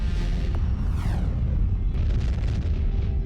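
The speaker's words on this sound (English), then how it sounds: "a massive star explodes, sending a lethal burst of energy rocketing toward our planet." A massive star exploding in a gamma-ray burst is rendered as a deep, continuous rumbling roar with sweeping whooshes and crackling bursts layered on top.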